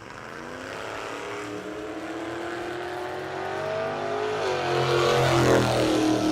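An S10 drag race car accelerates down a drag strip: a loud engine whose pitch climbs steadily with a shift partway through, the roar growing stronger to the end, with no talk.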